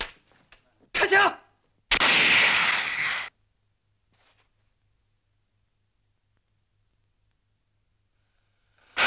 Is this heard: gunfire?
yes